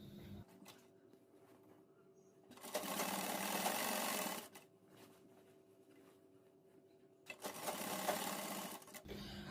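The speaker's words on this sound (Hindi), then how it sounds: "एक मजबूत सिलाई लगानी है आपको।" An electric sewing machine runs a strong seam on the side of a choli, with two loud, close bursts of rapid stitching separated by a quieter pause.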